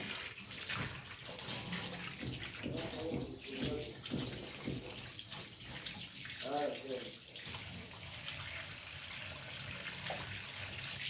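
Tap water runs steadily into a sink while raw chicken is washed under it, a close, continuous splashing flow with faint voice-like sounds briefly mixed in.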